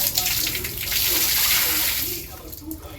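Water gushes and splashes steadily during a bath, loud and close, swelling in the middle then easing off, with a voice speaking faintly over it.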